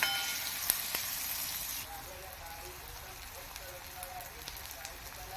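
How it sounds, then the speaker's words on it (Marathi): Onion and tomato sautéing in hot oil for a Marathi val bean bhaji give off a soft, steady sizzle with a few sharp pops. It is louder for the first two seconds, then settles into a quieter, even crackle. "टॉमॅटो देखील नरम होईपर्यंत आपण थोडा परतून घेऊया"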